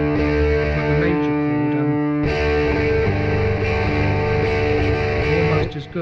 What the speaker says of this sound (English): So open D sound good with distortion